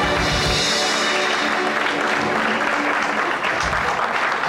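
A theatre audience at a live stage comedy show breaks into dense, sustained applause that fills the room loudly and evenly from start to finish.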